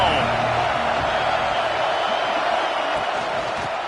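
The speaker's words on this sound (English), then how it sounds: "This crowd ready to make its presence known." A steady roar from a packed football stadium crowd at an Ohio State vs Miami game, a dense, continuous wash of cheering under a commentator's voice.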